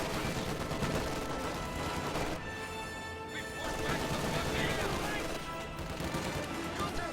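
Dense, continuous machine gun and rifle fire in a World War II video game, with overlapping bursts and sharp cracks that stay loud and close for the whole stretch, over a busy battle din.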